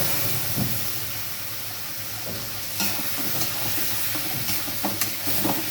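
Okra frying with mustard spice paste in a pan, a steady broadband sizzle with scraping stirs and occasional sharper spatters, close and continuous.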